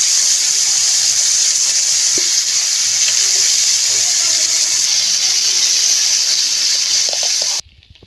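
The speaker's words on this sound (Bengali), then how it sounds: "মাছের এগুলো ভেজে নেব" Hilsa fish pieces sizzle steadily in hot oil in a pan, a loud continuous crackling hiss that runs throughout before cutting off abruptly at the end.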